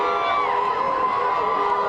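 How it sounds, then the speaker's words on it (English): Parade crowd celebrating the Houston Astros World Series victory chanting "Houston" in unison, a dense, steady roar of many voices with whoops and cheers, loud and close, no single voice standing out. "now as you can hear the crowd is chanting Houston"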